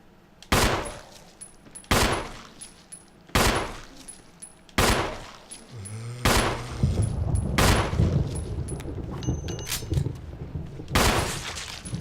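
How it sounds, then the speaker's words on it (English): Loud, close gunshots in the Resident Evil HD game, a series of single blasts about every one and a half seconds, ending in a headshot, with rumbling game sounds filling the gaps in the later shots. "Sounded like a headshot"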